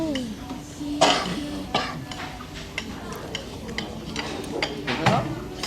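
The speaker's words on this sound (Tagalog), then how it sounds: "Si ate ko may ubo pa rin sa hanggang ngayon." A woman coughs a few times in a Vietnamese restaurant in Korea, short sharp bursts standing out from a backdrop of voices and clinking dishes.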